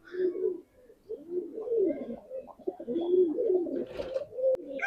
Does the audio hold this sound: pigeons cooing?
yes